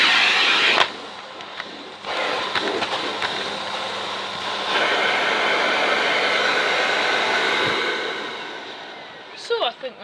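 A Miele C2 Compact Powerline vacuum cleaner runs with a steady broadband whoosh that drops and shifts in level as its variable suction changes, with brief clicks and handling noise.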